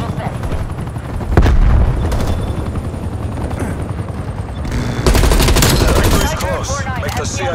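Heavy automatic gunfire crackles in Call of Duty: Black Ops Cold War at Mount Yamantau in the Soviet Union, loud and sustained with sharp bursts. Two louder volleys stand out over a steady rotor-like drone, with voices talking over the combat.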